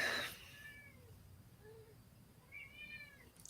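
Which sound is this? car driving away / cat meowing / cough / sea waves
cat meowing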